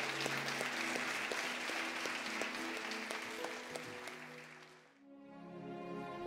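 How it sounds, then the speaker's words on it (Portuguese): Applause from a church congregation at a Sunday service, steady and full for about five seconds before dying away, then quieter music carrying on underneath. "aplauda a Jesus"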